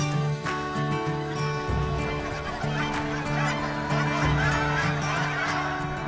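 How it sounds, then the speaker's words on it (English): Several geese honk repeatedly and loudly nearby, overlapping calls with a few sharp clicks mixed in. "We really need to keep the geese off of there"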